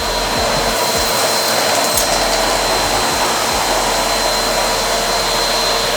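A steady, loud motor whine with a constant high tone from a Henry Allergy vacuum cleaner running continuously, with no voices.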